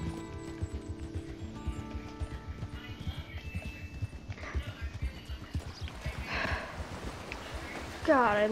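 Horse hooves clip-clop in a steady rhythm while riding in Red Dead Redemption 2, loud and close over game music, briefly splashing into deep water near the end.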